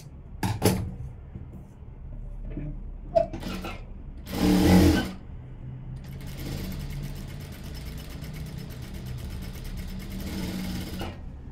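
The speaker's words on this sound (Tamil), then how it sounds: "இப்போ இந்த ஓரத்துலையும் ஒரு தையல் போட்டுடலாம்" A sewing machine stitches the edge of a blouse, its steady rapid whirring running for several seconds after a few clicks and handling bumps.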